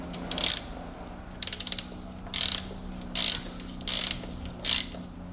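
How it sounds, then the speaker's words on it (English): A ratchet wrench tightens a manual transmission oil drain plug back in, clicking in quick close bursts separated by brief pauses, fairly loud with no talking. "After it stops dripping, I will start installing that plug back, right?"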